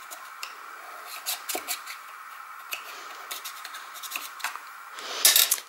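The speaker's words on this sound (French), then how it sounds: "Je vais me servir de mon plioir pour bien coller le fond de ma carte" A bone folder presses and rubs along the bottom of a paper pop-up card, giving scattered dry scrapes and swishes of paper, ending in a brief, louder burst of rubbing, with no talk.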